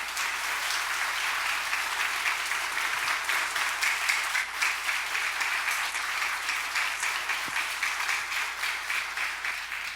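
Church congregation applauding during a Sunday worship service in Wonju, a steady dense clapping that fills the room for the whole stretch, with no talk over it.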